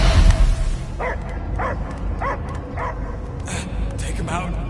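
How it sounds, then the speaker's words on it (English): A dog barks in short repeated bursts, five or six evenly spaced yips and woofs in a video game's sci-fi setting, over a low ambient background. "I hear only barking."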